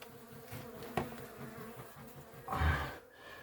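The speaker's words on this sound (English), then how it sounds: "As you can tell by the sound, they're quite angry already. Quite a few bees up there." Angry bees buzzing around a hive during a cut-out, a continuous insect drone with a few closer passes and a louder swell near the end.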